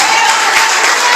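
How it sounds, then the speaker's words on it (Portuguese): A church congregation claps together at an Assembly of God service, a short, loud, dense burst of applause with a faint voice under it. "Aplauda o Senhor Jesus."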